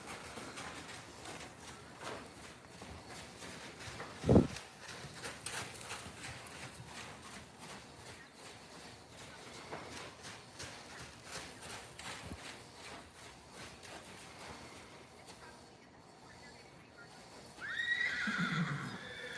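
Spirit the mustang being trained, letting out one sharp whinny near the middle, with soft hoof clip-clops and shuffling around it, while people talk quietly in the background.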